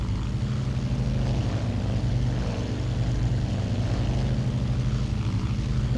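Propeller engine of a Douglas World Cruiser biplane in a flight simulator game, a loud, constant low droning hum that stays steady and unbroken throughout the climb, with no talking.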